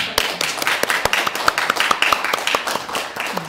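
An audience at a women's party members' education workshop claps in a burst of close, crisp, uneven handclaps that continue steadily throughout.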